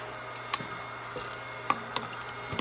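A heavy-duty half-inch ratchet on a 15/16 socket and extension breaks half-inch bolts loose on a model RBF-15 electric motor: sharp isolated metallic clicks and clacks, a handful spread irregularly over a quiet background with a faint hum.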